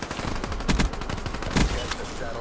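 A scoped Weevil submachine gun fires in Call of Duty Black Ops 3, short rapid bursts of gunfire with a couple of heavier hits among the game's dense, busy soundscape.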